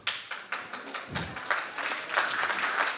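An audience at a talk claps, scattered hand slaps at first that swell into fuller, continuous applause near the microphone.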